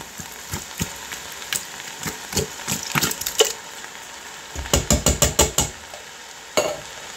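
Canned stewed tomatoes get chopped in a pan, a utensil knocking the pan bottom in irregular sharp taps, then a quick burst of five or six rapid chops and one last tap, all close and without talk.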